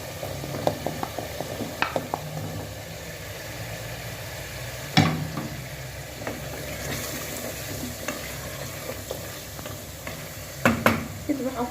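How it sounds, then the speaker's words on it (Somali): Chopped potatoes and carrots frying in a pot, a soft sizzle under repeated scraping stirs and occasional clinks of a spoon against the pot, moderately close. "hadda waxaan kusoo darsanayaa baradhadii iyo karootadii aan soo jarjaray ku darsanayaa."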